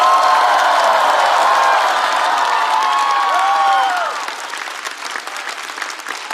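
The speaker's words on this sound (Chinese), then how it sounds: "再次把掌声送给各位，谢谢你们。" Loud, dense audience applause at the finale of a stand-up comedy show, steady for about four seconds and then easing off slightly while staying full, with scattered whoops and cheers rising through the clapping.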